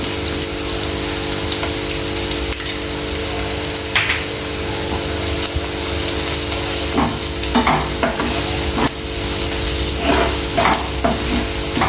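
Onions, ginger-garlic paste and turmeric fry in a pan for an egg and onion curry, a steady broadband sizzle running throughout with occasional scraping stirs and clinks of a spoon near the end; a low steady hum sits underneath.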